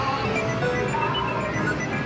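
Electronic crane-game jingle from a claw machine in a seaside-town game arcade, a steady tinkling melody looping at moderate volume over the busy room hum.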